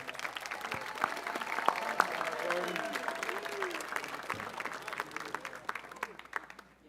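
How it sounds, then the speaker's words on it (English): At a high school honors assembly, an audience applauds an outstanding senior student athlete with steady, moderately faint clapping that runs under an announcer's voice. "one more round of applause for Jordan for that"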